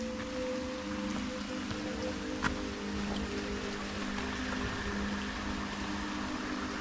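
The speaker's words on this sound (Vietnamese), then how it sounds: "Nghe tiếng suối." A forest stream in Nam Cat Tien National Park flows steadily, a continuous broadband wash of running water that holds even throughout, with no voices over it.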